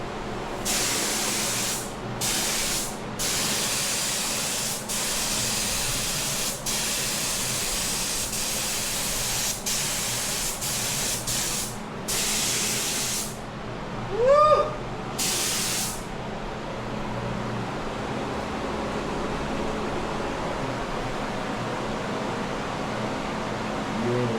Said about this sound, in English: I'm gonna top coat it with the core silver metallic to make that candy pop out